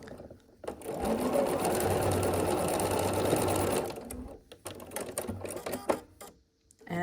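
A sewing machine stitches across a quilt pinwheel block, a steady close whirring run of about three seconds that stops, followed by a few softer bursts and handling noises.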